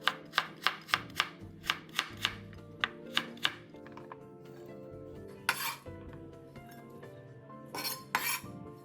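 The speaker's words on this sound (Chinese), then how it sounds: "沙葛300克，先切片，再切成丝。" A knife chops yam bean (jicama) on a board for spring roll filling, slicing it into strips: a quick, steady run of close crisp chops, then a pause and a few scattered clinks and scrapes, with a short burst of chopping near the end.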